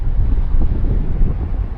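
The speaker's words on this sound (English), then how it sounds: "It's pretty windy today" Strong wind buffeting a microphone outdoors on a windy day in downtown Fort Wayne, a loud, continuous low rumble filling the whole stretch with no talk.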